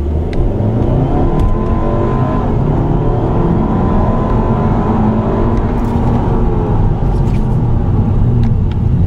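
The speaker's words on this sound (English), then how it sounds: "This little turbo engine is plenty quick." Small turbocharged engine of a 2015 VW Jetta pulling steadily under acceleration while driving, a continuous loud rumble with road noise and faint clicks, no talking.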